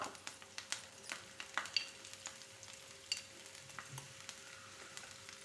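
Garlic and dry red chillies sautéing in a pan for carrot chutney, a soft, quiet sizzle with light scraping stirs and small irregular ticks throughout.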